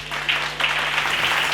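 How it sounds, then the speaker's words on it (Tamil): A church congregation claps together, a dense, steady round of applause filling the room for a short stretch. "கைத்தட்டுங்க"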